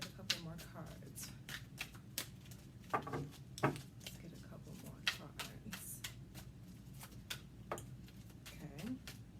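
Tarot cards being shuffled and handled by hand, giving a series of soft, crisp riffling flicks and taps at close range, quiet and irregular with a faint low room hum underneath.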